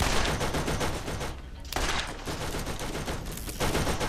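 Enemy gunfire in Borderlands comes as dense, loud volleys of rapid shots, breaks off briefly, then resumes just as relentlessly.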